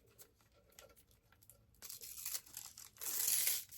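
Backing paper peeled off a sheet of die cut double-sided sticky dots for dollhouse crafting, giving a brief crackling, tearing rip that grows louder and then peaks near the end, with no voice.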